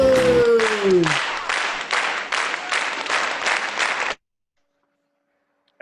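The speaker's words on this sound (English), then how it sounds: "And the crowd goes wild" A studio audience applauding and cheering on a talk show, a dense burst of clapping that opens beside a brief tone and then pulses in waves for about four seconds before it cuts off suddenly into silence.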